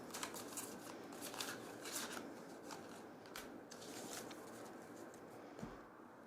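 A deck of oracle cards being shuffled by hand, giving a soft, steady riffling and papery patter close by, continuous and fairly quiet, with no talking.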